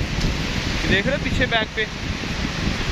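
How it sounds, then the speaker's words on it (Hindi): A strong, fast windstorm roars across the microphone in a constant, gusty rumble, loud and close, while a person talks over it. "तेज हवा चल रही है, बहुत स्पीड से तूफान है"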